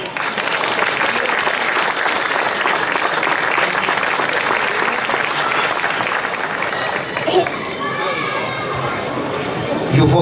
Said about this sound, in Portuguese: E o vosso aplauso vai ter de manter-se por mais uns segundos